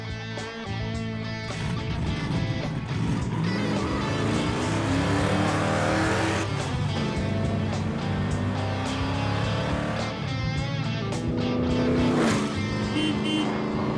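A 1968 Wreck Runner car driving through Monument Valley, its engine a loud continuous rumble with rising and falling revs, heard from close by throughout.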